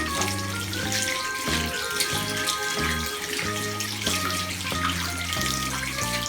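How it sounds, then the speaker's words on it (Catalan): Tap water runs steadily while soap is rinsed off hands at a sink, a continuous splashing hiss over background music with no talking. "Ara ja podem treure'ns el sabó amb l'aigua."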